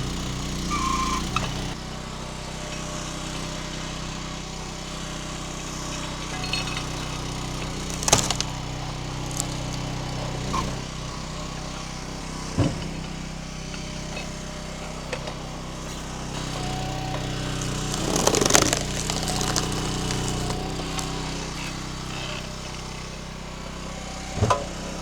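A Split-Fire log splitter engine runs steadily while splitting a gnarly triple-crotch log, with sharp cracks and thumps of wood giving way at intervals over the drone.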